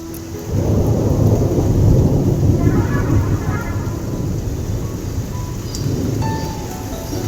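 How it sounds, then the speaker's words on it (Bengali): Thunder rolls in with a deep, loud rumble that swells and slowly fades, rain falling steadily underneath. "কি হারে মেঘ ডাকছে।"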